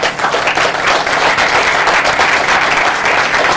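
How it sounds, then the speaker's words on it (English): An audience at a business announcement event for a new laboratory facility breaks into sustained applause, a loud, dense wash of clapping throughout. "I think that deserves a round of applause"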